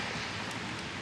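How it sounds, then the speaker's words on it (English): Steady rain falls outdoors during a Friday afternoon thunderstorm in Pittsburg, Kansas, a dense even hiss of drops filling the short stretch at moderate level, with no voices or thunder. "Rain's picking up again, so that's good."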